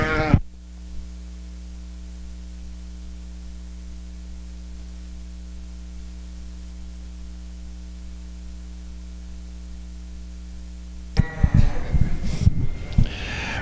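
Ewes in a breeding sheep show ring at the 2019 National Western Stock Show give a few short bleats near the end, after a long stretch of steady electrical hum and static.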